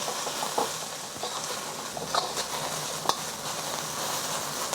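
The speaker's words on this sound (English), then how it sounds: "I'm gonna add my onions and carrots. I'm gonna stir fry this for about 3 minutes" Onions and carrots sizzle steadily as they are stir fried in hot oil, with a few sharper crackles and the occasional scrape of a stirring utensil rising above a continuous close frying hiss.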